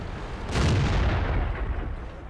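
A Type 61 tank's 90 mm gun fires once in World of Tanks, a single loud booming shot with a sharp crack followed by a long rumbling decay over low background noise.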